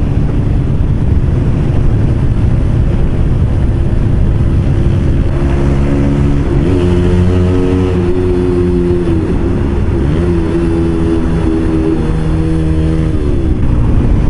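A Honda CBR125R motorcycle engine runs steadily and loud throughout, a continuous low drone that rises and falls in pitch midway as the revs change.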